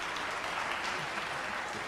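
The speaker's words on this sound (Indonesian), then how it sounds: "Kita beri tepuk tangan pada Philip" Faint applause from a seminar audience at a university investment talk, thin even clapping heard at a distance with no voices over it.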